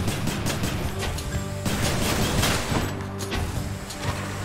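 Rapid gunfire from the Exagryph, a gun weapon in the video game Hades, rattles loud and steady across the whole stretch, with bursts layered over dense game music and effects.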